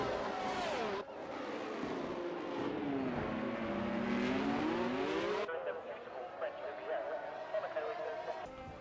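Formula 1 cars in a Monaco Grand Prix racing game, engines revving and shifting pitch as they battle out of the tunnel, steady and fairly loud under a commentator's talk.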